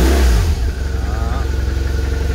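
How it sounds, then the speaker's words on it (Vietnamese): A car engine starts with a low rumble, then revs and settles into a steady, pulsing idle, close and loud with no talk over it. "nổ máy cho bà con coi cái nè"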